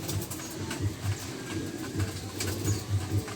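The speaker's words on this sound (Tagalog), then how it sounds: "Talino talagang ibon yung si Purple." Soft, low pigeon coos repeat in short pulses over a steady murmur of background noise, fairly close but not loud.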